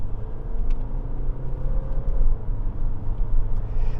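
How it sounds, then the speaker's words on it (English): A 2017 Audi A5 pushed harder in dynamic drive mode gives a steady, low engine drone and road rumble from inside the cabin, with a faint rising tone as it pulls and no voices. "going to change drive select to dynamic, and now I'm gonna try to drive this car a bit faster"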